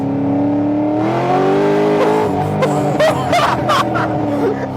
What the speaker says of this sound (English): All right, I'll give it some gas.